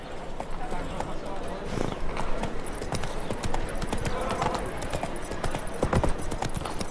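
Roach the horse's hoofbeats in The Witcher 3, a steady, rhythmic clip-clop of hooves that runs throughout, moderately close, with a voice talking over parts of it.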